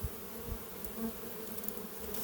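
Honey bees buzz around a swarm trap as foragers return with nectar, a faint continuous drone of many wings with a few louder passes nearby, and no voices.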